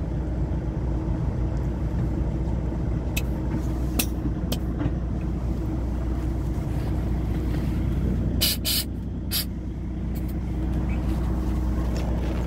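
Steady wind rushes and buffets around a truck cab with the window open, a constant low roar over the idling engine, with a few brief rattles and knocks breaking through.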